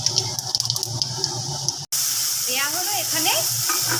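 Dried red chilies and whole cumin seeds crackle and sizzle steadily in hot oil in a wok, the hiss jumping louder partway through, with a faint voice in the background.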